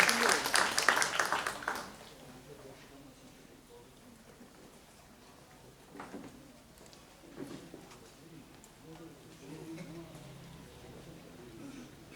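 Audience applause at a Bursa conference on art, culture, museums, poetry and music, welcoming speakers to the table: a dense burst of clapping for about two seconds, then fading into quiet room murmur.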